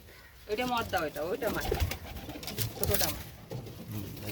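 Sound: pigeons cooing on a pigeon farm

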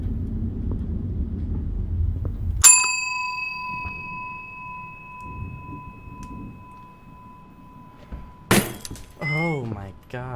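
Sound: lamp being attacked and broken in a video game

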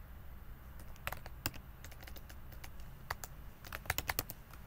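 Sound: typing code on a computer keyboard

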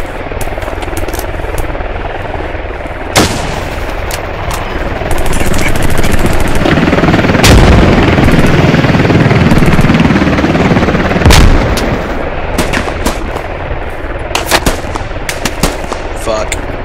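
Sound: machine gun fire in Squad video game

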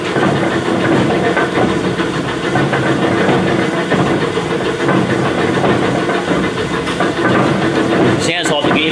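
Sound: Lee & Hunt vertical slotter running, flywheel rumble

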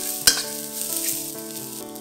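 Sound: frying ginger, garlic and shallots aromatics

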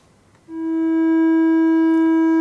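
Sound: triangular wave tone from signal generator

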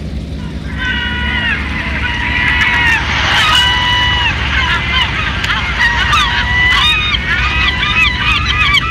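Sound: seagull cries sound effect

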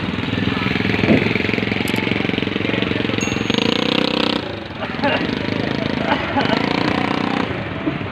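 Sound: heavy equipment engine lowering fishing boats

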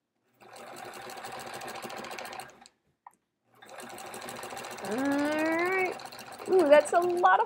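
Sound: sewing machine quilting The Splendid Sampler quilt

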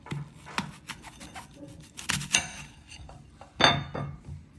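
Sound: knife cutting an apple in half

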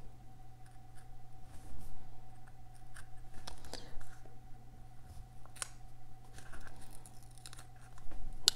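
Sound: X-Acto knife cutting paper

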